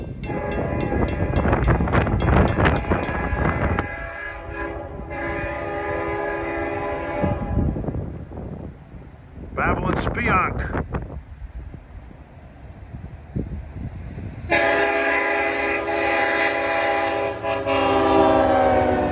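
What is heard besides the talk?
LIRR diesel train DE30AC passing, K5LL horn blowing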